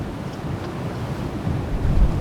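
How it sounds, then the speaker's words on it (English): Strong wind roars across the microphone and waves rush steadily while a sailboat works through a Canadian mountain inlet, making a dense, unbroken churning noise that swells slightly toward the end. "The wind was definitely intensifying, the inlet reminding us this was not going to be a leisurely cruise."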